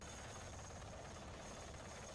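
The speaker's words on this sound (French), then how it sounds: "avec des hélicoptères vers la 7e flotte." Helicopters evacuate Americans from Saigon toward the Seventh Fleet, a steady dense rotor and engine drone heard faintly, as from an old archival recording, with no voices.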